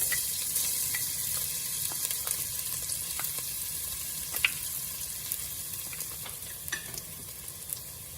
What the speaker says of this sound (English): So the mustard started popping. I'm going to add my garlic.